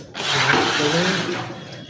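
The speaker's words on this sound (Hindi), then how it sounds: "तो पानी चला दिया इसमें" Water turned on and running steadily into a bucket or basin, a loud continuous splashing rush close by that fades slightly toward the end.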